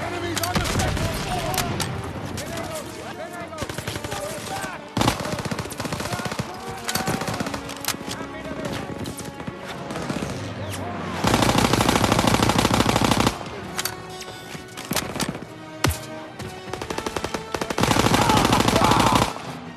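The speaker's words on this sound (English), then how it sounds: "Cover fire from the left!" Sustained machine-gun and rifle fire from a WWII battle in Call of Duty: WWII, dense and loud throughout with heavier bursts near the end, mixed with shouted voices and a music score.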